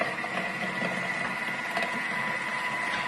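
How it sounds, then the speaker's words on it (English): Thermomix blending an acai bowl at a slower speed, a steady mechanical whirring hum with faint rhythmic chopping and clatter, close and moderately quiet, no voices. "next it's going to go for one more little run, but at a slower speed, just to make sure everything's incorporated"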